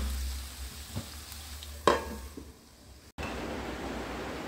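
Vegetables for veg biryani cooking in a pan, with a steady close sizzle and frying hiss and a brief stirring scrape partway through, no voices heard.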